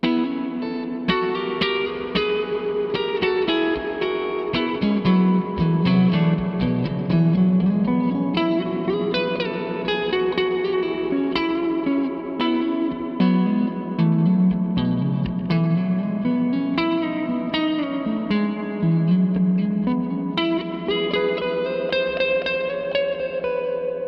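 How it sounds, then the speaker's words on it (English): An electric guitar played through a Zander Circuitry Exosphere reverb pedal, slow subtle modulation making the wash gently swell and waver as sustained notes and chords ring out with long, shimmering tails, continuous and upfront. "That's a really slow, subtle modulation"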